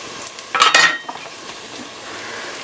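Garlic added to browning onions in a hot pan, a steady sizzle of frying with a burst of stirring and utensil scraping near the start, close and fairly loud, no talk.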